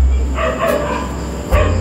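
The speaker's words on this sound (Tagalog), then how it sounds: "Pati aso ko na, dadamay." A dog barks a few times in short, close bursts over a low steady background rumble.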